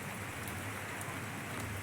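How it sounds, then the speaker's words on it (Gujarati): Rain falls in Vyara as a soft, constant hiss, faint and distant-sounding, unbroken for its short length with no voices. "આજે અમારા વ્યારામાં વરસાદ પડ્યો."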